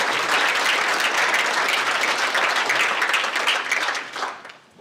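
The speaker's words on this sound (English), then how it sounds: "so give them a applause for them." A school spring concert audience applauds student soloists and ensembles in a dense, sustained round of clapping that fills the hall, then thins and fades out over the last second.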